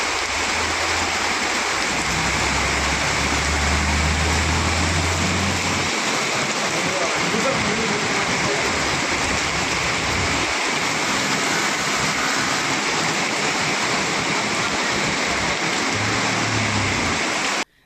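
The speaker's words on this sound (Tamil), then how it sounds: "சேலம் மாநகரில் இரவில் 3 மணி நேரத்திற்கு மேலாக கனமழை கொட்டியது." Heavy night rain pours over the streets of Salem city, a dense, loud and continuous roar of falling water with low rumbling underneath, steady throughout.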